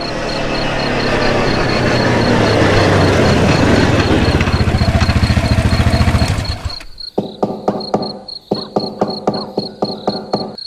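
An old motorcycle engine at night in a small East Java village, a continuous rough buzzing drone for several seconds that cuts off abruptly and gives way to rapid, evenly spaced sharp knocks or pulses.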